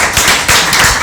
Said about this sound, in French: Très bien, on les applaudit.